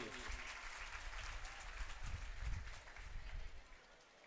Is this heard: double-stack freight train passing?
no